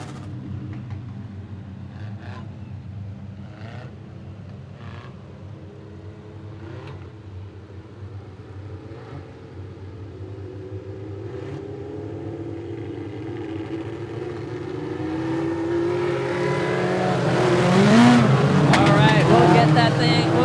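Legends class race cars in a heat race, a dense roar of several engines droning steadily and swelling louder as the pack nears and passes close by, with a commentator talking over the noise.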